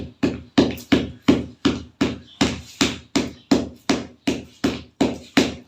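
A hammer beats a shoe sole to press it down during a village shoe repair. The blows are loud and close, about thirteen of them in a steady, even rhythm.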